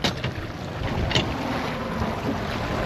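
A boat reversing while out crayfishing for western rock lobster, a steady engine drone with wind buffeting the microphone and water noise, continuous and close throughout with no talking.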